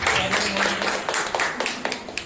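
Congregation at a Sunday morning church service clapping to welcome a visitor, a steady burst of applause from many hands in a room, fading into scattered claps.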